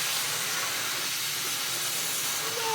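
Vacuum cleaner runs on a rug with a steady, loud airy hiss and whoosh of strong airflow, constant throughout with no voices.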